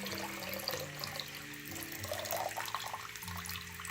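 Water flowing and trickling as a siphon is started on a forty-gallon aquarium with a sump, a continuous splashy gurgle with low hum in the background.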